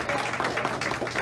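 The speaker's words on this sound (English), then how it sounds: "give them a round of applause" An audience applauds pitch competition winners at an entrepreneur talk event, a dense burst of clapping that fills the short moment at steady, moderate loudness with no clear gaps.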